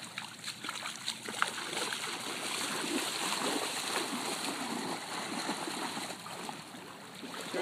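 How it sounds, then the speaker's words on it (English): Water splashes and sloshes as two people wade into the sea at a beach during dog training, a steady broadband wash of surf and splashing throughout, with no speech over it. "I just need you to do a sit stay as Jake and I walk into the water"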